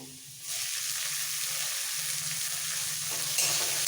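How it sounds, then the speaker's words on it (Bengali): Meat fries in a pan with raisins, a continuous close sizzle that swells suddenly after a quiet start and keeps a steady hiss with faint stirring scrapes underneath, and no talking. "খুব ভালো করে ভেজে নেবো যাতে কাঁচা না থাকে"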